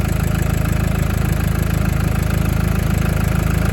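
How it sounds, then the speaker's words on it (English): A FIAT Ducato van engine runs at a steady idle, a close, continuous low mechanical drone with an even pulsing rhythm and no talk. "start the engine"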